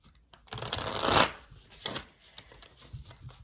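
Tarot cards being shuffled by hand, a close, bright riffling burst that swells and fades, then a few lighter flicks and shuffles of the deck.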